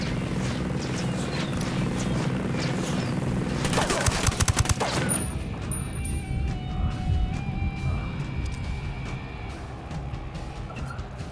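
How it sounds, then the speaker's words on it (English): Bursts of automatic gunfire in the Ghost Recon Wildlands video game crackle over a rumbling engine-like background, with a dense, loud volley around the middle before the shooting thins out to scattered distant shots. "Opening fire on these fuckers."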